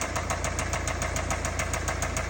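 A car engine idles with a rapid, even knocking tick from a failing bearing repeating throughout, loud and close, steady rumble underneath.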